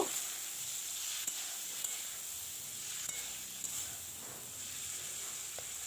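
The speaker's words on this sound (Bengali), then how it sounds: "এবার দিয়ে দিলাম কেটে রাখা আমড়া চিংড়ি মাছ হালকা করে ভাজা করে নেব।" Prawns and cut hog plum fry lightly in a pan, giving a soft, even sizzling hiss that stays faint and steady throughout with a few tiny pops. No one speaks.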